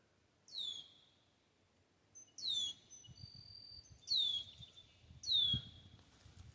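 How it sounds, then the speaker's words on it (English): Red-winged blackbirds at a pond give four clear, sharp whistled calls spaced about every one to two seconds, fairly close, over faint low background rumble. "Red-winged blackbirds are still making lots of noise."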